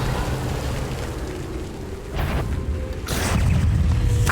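A spell is cast in the PC game Hogwarts Legacy: a steady rumbling bed breaks into two sharp bursts of magical whoosh and crackle, ending on a louder sustained surge, with no talking.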